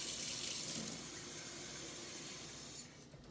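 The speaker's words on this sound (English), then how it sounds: "Now I need 1 1/4 cups of lukewarm water, but I'm only going to put in 1 cup first" Lukewarm water streams into a bread mixing bowl for dough, a steady close rushing splash that runs for about three seconds before tapering off near the end, with no voices.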